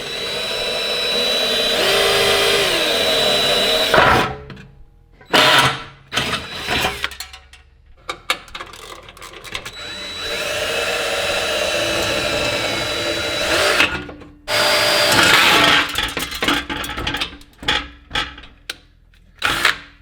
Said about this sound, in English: you can see we actually have to drill out those rivets